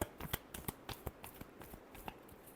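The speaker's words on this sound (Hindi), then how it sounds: "last shuffle" A deck of tarot cards is shuffled in a quick series of sharp riffling snaps and flicks, irregular in rhythm, close and fairly quiet, with no talking.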